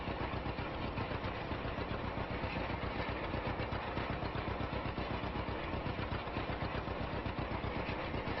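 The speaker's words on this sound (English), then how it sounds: "I do like the sound of this John Deere." A vintage 1949 John Deere A tractor engine in Farming Simulator 25 chugs steadily and loudly with an even, rapid pulsing beat that never lets up.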